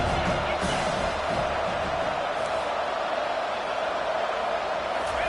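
Large football stadium crowd roaring on third down at an Auburn game, a dense continuous wall of cheering and noise held at full volume throughout.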